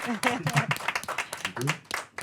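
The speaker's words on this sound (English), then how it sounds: "big applause for you" Applause and a cheer from a hackathon pitch event audience after a final-round pitch, with a voice talking over the clapping throughout.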